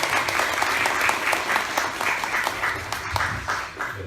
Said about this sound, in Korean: 박수로 맞아주시고요